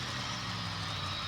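A monster truck engine idles at the starting line of a racing event, giving a brief, low, steady throbbing rumble heard faintly from a distance.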